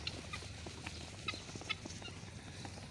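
Desi chickens, a rooster and a hen, cluck and murmur softly on a rooftop terrace, a faint, continuous flock chatter at a moderate distance with no speech.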